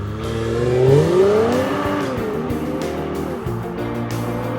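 A 2017 Mercedes-AMG GLC 43 with a 9-speed automatic and all-wheel drive accelerates hard, its engine note climbing in pitch, swelling to a peak, then settling as a gear changes, loud and steady throughout.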